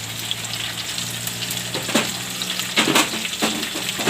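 Capsicum and onion tossed into hot oil with potatoes, crackling in a steady loud sizzle, with bursts of stirring and spatula scrapes against the pan.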